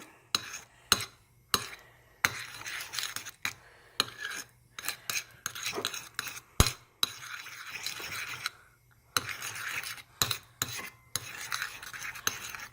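Homemade slime made without glue being stirred and mixed, with repeated short wet scraping and squelching strokes in an uneven rhythm, close and fairly quiet, no voices.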